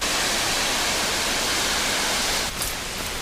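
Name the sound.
waterfall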